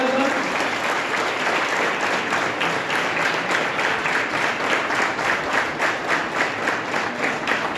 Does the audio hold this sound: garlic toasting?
no